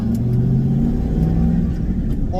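A GM LS1 V8 car on a test drive after a coil-on-plug tune-up for a cylinder 5 misfire, its engine pulling under acceleration with a steady, close, continuous drone.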